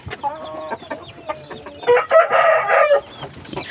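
An Aseel rooster clucks in a run of short, close, throaty bursts that swell into a louder, busier cackling stretch before tapering off.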